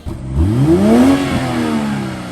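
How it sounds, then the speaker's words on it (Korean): A car engine revs up with a rising, raspy tone, then holds and settles, loud and close with no talking. "직렬 6기통은 끊임없이 터지는 거에서 나오는 카랑카랑한 엔진음이 있거든요"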